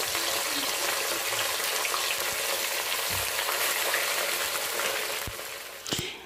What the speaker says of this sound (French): Une fois que votre huile est bien chaude, donc on va venir mettre le poisson.